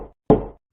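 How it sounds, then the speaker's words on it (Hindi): Knocks on a wooden door, a soft rap followed by a firmer, louder knock, close and dry with no voices. "तभी दरवाजे के खटकने की आवाज आती है।"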